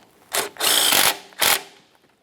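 Ratchet wrench snugging a 13mm mounting bolt that holds the power steering line on a 2007-2017 Jeep Patriot 2.4L, three close, crisp bursts of rapid clicking separated by short pauses.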